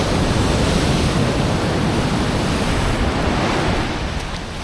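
Ocean surf breaks on a beach at Nha Trang, Vietnam, a loud, continuous rushing wash with wind buffeting the microphone, easing slightly toward the end.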